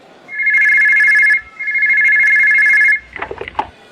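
An office telephone rings loudly and close in two long electronic bursts, followed by a short clatter as the handset is picked up.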